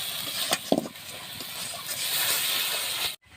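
Dissolved spice paste hits hot oil for mutton kosha, bursting into a loud close hiss and sizzle with a few sharp spatters, holding steady before cutting off abruptly near the end.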